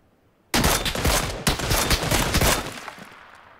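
Rapid automatic gunfire from a VSS rifle in PUBG on Xbox One X, a dense sustained burst that cuts in abruptly, briefly pauses, then continues loud and close before tapering off.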